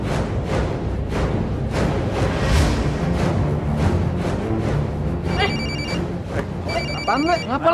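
A mobile phone rings in repeated electronic bursts toward the end, layered over a busy, loud background with people talking throughout.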